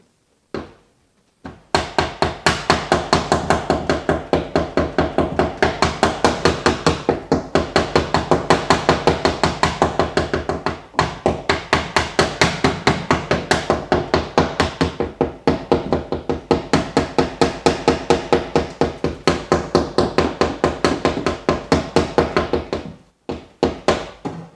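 Dense run of steady, loud hammer blows on a car body panel while knocking out a dent, continuing nonstop for over twenty seconds, followed by a short pause and a few last strikes.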